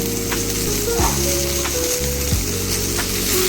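Chopped bottle gourd sizzles and fries steadily in a pan, a continuous close crackle with a low rumbling hum underneath.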